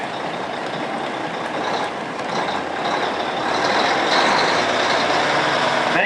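A blue 1985 Mack R model truck rolls past in a Memorial Day parade, its loud heavy engine rumble growing slightly stronger over several seconds, with no talk.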